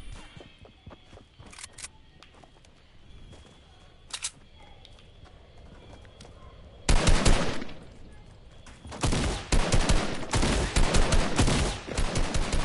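Video game gunfire cracks in sparse single shots, then erupts into loud, rapid automatic bursts, close and dense toward the end.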